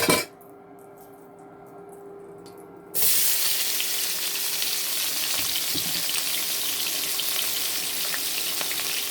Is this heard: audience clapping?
no